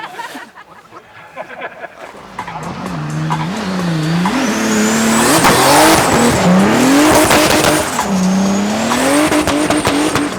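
A Porsche 930 Turbo slides sideways and spins on an ice race track, engine revving up and down in wavering surges as tires hiss, building from quiet to a loud, sustained roar nearby.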